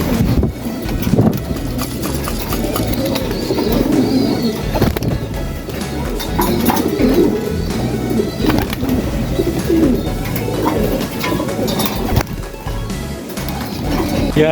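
Several pet pigeons coo steadily close by, with low soft cooing running throughout amid wind buffeting the microphone and occasional fluttering and handling noises.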